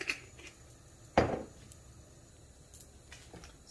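A cooking pot being picked up and set down in a home kitchen while preparing vegetarian couscous, giving one sharp metallic clank close by, then only faint rustling.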